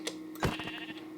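A sheep bleating in the video game Minecraft, a single short, wavering bleat near the start, fairly faint and close, alone with no talking.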